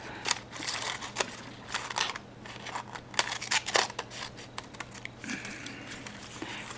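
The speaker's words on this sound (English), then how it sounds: "Nothing like good old paper to cut." Scissors cut through layered paper, music paper and a doily for collage Valentine cards, making a series of crisp, close snips and crunchy crinkles in uneven bursts.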